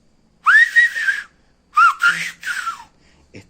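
Tenerife silbo whistled language: a long gliding whistled phrase, then after a pause a second phrase broken into three close segments with swooping pitch, loud and near, with faint breathy noises at the end.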